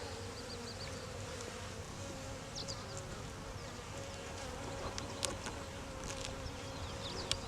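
Honeybees hum around an open hive as brood frames are inspected, a dense steady buzz close by with a few louder individual bees passing near.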